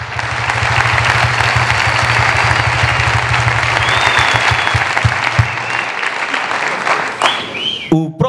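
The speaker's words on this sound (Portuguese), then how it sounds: "Quando vocês acabarem de aplaudir" A live comedy roast audience claps steadily in a dense, loud, sustained wash of applause that thins and breaks up near the end as a voice cuts in.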